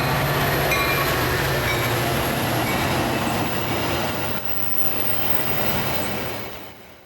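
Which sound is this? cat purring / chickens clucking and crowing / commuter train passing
commuter train passing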